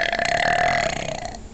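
A single long, loud, croaking burp from a person, rumbling steadily for over a second close to the mic before trailing off.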